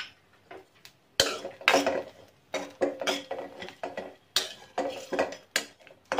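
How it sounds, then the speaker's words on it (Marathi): Grated coconut sautéed in a pan, heard mostly as repeated metallic scrapes and clanks of a spoon against the pan in an uneven rhythm, with little sizzle between strokes. "हे खोबरं आपल्याला लालसर रंग येईपर्यंत परतून घ्यायचं आहे।"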